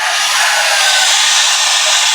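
A pet blower runs continuously and loud at close range, drying three-month-old puppies after a bath, a steady broadband whoosh with no pauses.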